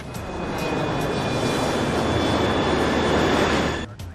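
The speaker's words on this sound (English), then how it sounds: "The first officer adjusts the pitch of the plane to resume the descent." An airliner on its descent gives off a broad, steady roar of engine and rushing air with a thin high tone running through it, which drops away sharply near the end.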